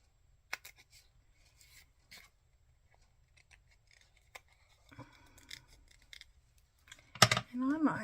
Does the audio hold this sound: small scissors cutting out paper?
yes